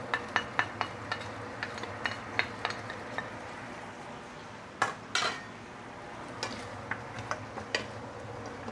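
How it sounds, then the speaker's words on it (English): Ginger and garlic sautéing in a pan for braised pork leg, heard as a run of sharp utensil clinks and scrapes against the pan over a faint, steady sizzle, with a couple of louder knocks midway. "Now, here's the saute ginger, garlic and all."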